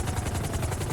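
A video-game helicopter gives off a continuous, pulsing rotor thump with a whirring roar. It stays loud and steady throughout the brief moment, with no speech.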